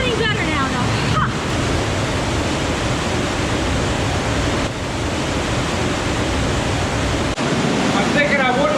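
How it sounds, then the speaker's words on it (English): Rushing water roars through a narrow gorge, a loud, dense, constant wash of noise heard up close with no break. "there's rushing water on the other side"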